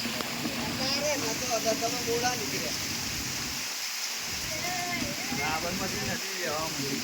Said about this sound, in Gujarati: ફૂલ ભૂક્કા કાઢે એવો વરસાદ આવી ગયો ગાઈસ